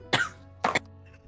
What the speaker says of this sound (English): starts to cough